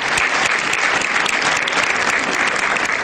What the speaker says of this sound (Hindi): एक बार तालियां बजा के आप बधाई दे दें